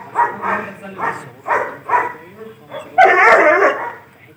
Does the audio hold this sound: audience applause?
no